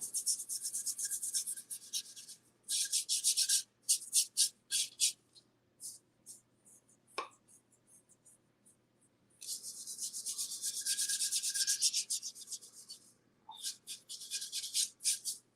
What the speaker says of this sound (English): I'm just going to paint down here.